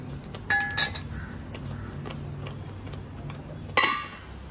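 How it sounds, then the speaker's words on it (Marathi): Metal lid set down on a pan of semolina sheera, a couple of sharp clinks and a ringing clatter close by, over a steady low hiss of cooking, with a second clink near the end. "आता आपण या शिऱ्यावर झाकण ठेवूया।"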